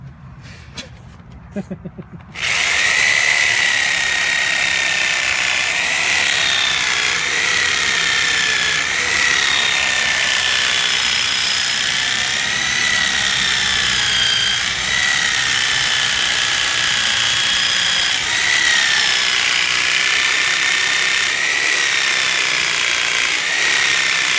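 After a few brief knocks and rattles, a power saw whines loudly and steadily as it cuts through a Tyrannosaurus leg bone, its pitch dipping and recovering under load throughout, with faint voices beneath.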